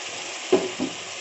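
Onions frying in a pan with two pureed tomatoes being stirred in for a kidney bean masala curry, giving a low steady sizzle with two short stirring scrapes.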